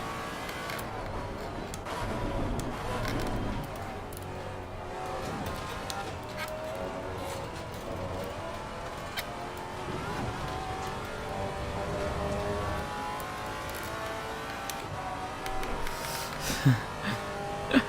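A Maserati MC GT4 race car engine at Monza in Assetto Corsa Competizione drones and buzzes steadily with shifting revs, fairly continuous, with some faint clicks near the end.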